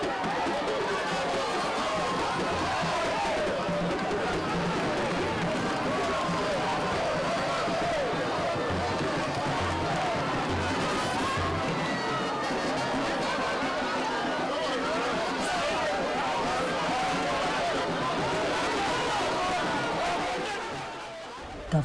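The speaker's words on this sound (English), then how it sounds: "a tumultuous crowd of residents trooped out to welcome the governor back to his home base" Large crowd of residents in Lagos welcoming their governor home, a dense steady roar of overlapping chatter and babble with scattered shouts, loud and continuous until it fades slightly at the end.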